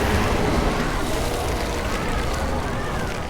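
Tornado spell cast in the video game Spellbreak: a steady, loud rushing roar of swirling wind that fills the whole moment without letup, with faint voice activity underneath.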